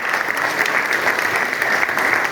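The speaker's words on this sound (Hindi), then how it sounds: "लिए जोरदार तालियां होनी चाहिए।" An indoor audience at a community association conference gives a dense, sustained round of clapping that stays loud and even throughout, with no speech over it.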